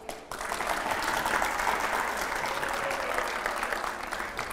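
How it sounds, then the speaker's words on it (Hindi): Loud, dense applause from a TV studio audience at a political talk show, starting abruptly and holding as an even wash of many clapping hands before easing slightly at the end. "जोरदार तालियां हो जाए इस बार।"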